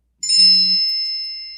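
A single bright electronic ding sounds during a vintage jewelry live shopping stream, signaling an incoming phone bid. It strikes sharply and rings out cleanly as it fades, alone with no talk.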